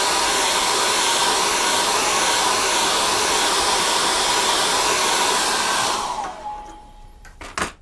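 A hair dryer blows steadily and loudly on wet acrylic paint on a fur painting, a continuous broad whoosh that cuts off near the end, followed by a couple of small knocks.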